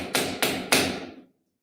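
Three crisp knocking taps sound close and evenly spaced in a quiet room, each fading quickly, with silence after the last.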